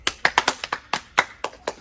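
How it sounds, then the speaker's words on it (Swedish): A small group of people clap their hands in a short burst of sharp, uneven claps, about ten distinct hits close by, with no talking over them. "Ska vi ta och applådera för den här fina?"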